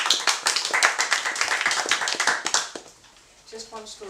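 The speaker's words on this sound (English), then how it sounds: "Give her a round of applause." Audience applause for a science fiction author at an award reading, brisk claps filling the first two and a half seconds, then fading as a voice starts talking.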